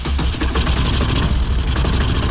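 A single-cylinder three-wheeler engine runs loud and close, a rough throbbing low rumble with a steady pulsing beat and no talk over it.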